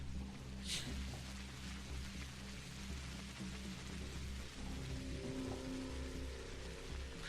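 Steady rain falls in the video game Pathologic Classic HD, an even, constant patter with a faint low hum beneath and no speech.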